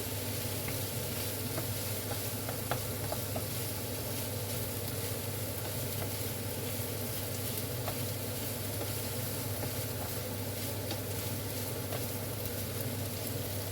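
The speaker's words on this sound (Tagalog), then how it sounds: "At ilunod na natin ngayon ang noodle. Yan. Halo-haloin lang." Noodles with egg and ham stir-fry in a hot pan with a steady, dense sizzle, and light scraping and tapping stir strokes break through now and then. The sizzle sounds close and constant and carries no talk.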